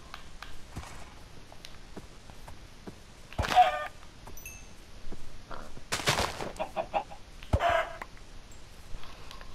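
Chicken clucks in a video game, a few short separate clucking bursts spread over quiet background with faint soft footsteps, no talking.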